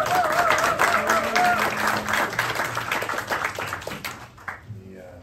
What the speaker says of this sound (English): A round of applause for Senator Durbin's years and years and years of leadership